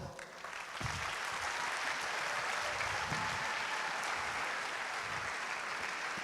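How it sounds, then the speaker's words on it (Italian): A large audience applauds steadily and loudly at an opening-night sports federation event honouring a women's national team's European bronze, the clapping dense and sustained, with a few voices mixed in. "Un grande applauso."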